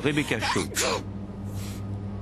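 A single short sneeze bursts out right after a voice speaks, close and quick, followed by quiet room tone.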